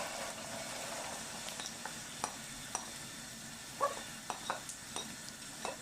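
Carrots frying in a pan for fried rice, a soft steady sizzle under several distinct spatula scrapes and taps against the pan, growing more frequent toward the end; no talking.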